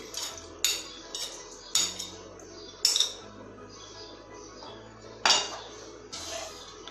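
A spoon mixing red and green jelly into a sweet milk dessert in a bowl, sharp metallic clinks and scrapes against the bowl at irregular intervals, close up with quieter stirring between strikes.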